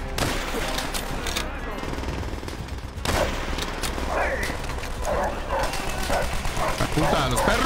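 Attack dogs barking and snarling in Call of Duty: World at War, with rapid machine-gun fire and battle noise around them and a player shouting over the fray.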